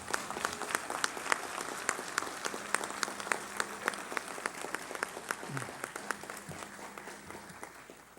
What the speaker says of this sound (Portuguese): Eu quero pedir uma salva de palmas para o Expedito Teodoro.